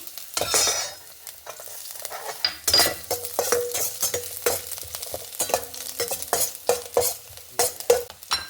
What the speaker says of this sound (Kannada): 1-2 ಇಂಚು ಚಕ್ಕೆ, 1-2 ಲವಂಗ, 1 ಏಲಕ್ಕಿ ರೋಸ್ಟ್ ಮಾಡ್ಕೊಂಬರೋಣ